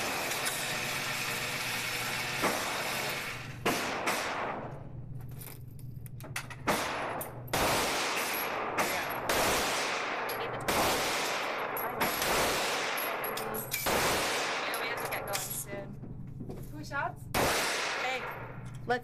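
Gunshots from target shooting outdoors with neighbors, sounding as a string of sharp, loud cracks spaced irregularly across the stretch, with a steady low hum underneath and occasional voices between shots.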